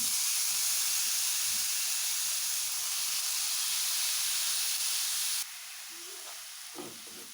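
Carrots frying in a quarter ladle of ghee in a hot pan for carrot halwa, a steady loud sizzle and hiss throughout with faint stirring scrapes near the end, no talk.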